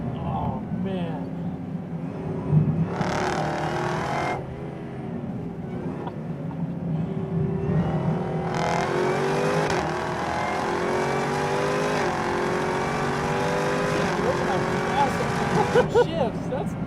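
Chevrolet Camaro ZL1 V8 with a 10-speed automatic accelerating hard on a hot lap, engine note climbing and dropping through quick upshifts, loud and steady throughout with excited voices talking over it.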